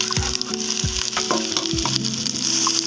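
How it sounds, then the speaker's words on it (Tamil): Chopped capsicum sautéing in hot oil in a pan, a loud, steady sizzle with a few low thumps and scrapes as the pieces are stirred. "குடமிளகாவை இதில் போட்டாங்க. அதே ஒரு 2 மினிட்ஸ் எண்ணெயில் நல்லா வதக்கலாம்."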